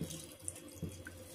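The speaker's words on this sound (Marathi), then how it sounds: "थोडं पाणी घालूया आपण" Water pouring from a tap into a pressure cooker holding whole masoor lentils, a steady close splash with a brief gurgle part way through, no voices.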